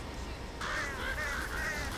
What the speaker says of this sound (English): It's because we alerted the birds